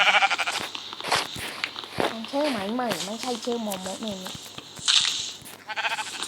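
A sheep in the Minecraft video game gives a wavering, bleat-like call lasting a couple of seconds, heard under a woman's chatter with clicks and game noises around it.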